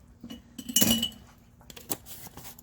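A metal teaspoon clinks against a pan while minced garlic goes in for garlic salmon linguine. A few light taps are followed by a brighter ringing clink, then a single sharp tap, all close and isolated.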